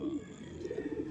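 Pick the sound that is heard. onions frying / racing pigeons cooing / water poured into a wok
racing pigeons cooing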